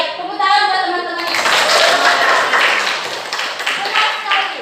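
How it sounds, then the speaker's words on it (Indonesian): Students in an Indonesian-language classroom break into a burst of hand clapping that starts suddenly and carries on as a dense, lively patter. "tepuk tangan buat teman-teman"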